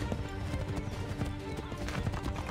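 Horse hooves clip-clopping at a steady trot in the Assassin's Creed 3 video game, a repeated rhythmic beat under dense game ambience and music.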